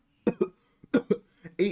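A person imitates coughing in several rough, rhythmic bursts, pairs of hacking coughs separated by short pauses, close and fairly loud.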